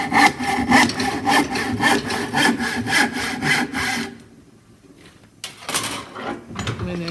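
A handsaw crosscutting wood: rhythmic back-and-forth rasping strokes, close and even, stopping for a quiet moment before a few more strokes resume.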